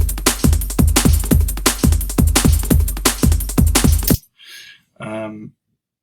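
A fast, busy drum breakbeat pitched to 172 BPM, punchy kicks and snares with crisp cymbals, plays loudly for about four seconds, then cuts off, followed by brief scattered sounds.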